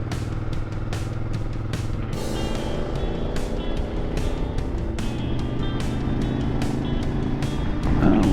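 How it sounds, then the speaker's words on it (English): Steady road traffic on a motorcycle trip, with cars whooshing past one after another in a continuous loud roar broken by repeated clicking or ticking sounds, with no talking. "Can't hear a word he's saying with all these cars."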